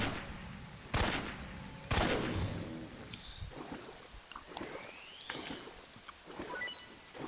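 AK rifle fire in the stealth game Metal Gear Solid 3, set in a swamp: several sharp, loud shots spaced a second or so apart, with trailing echoes and lighter rattling, splashy movement between them, no talking.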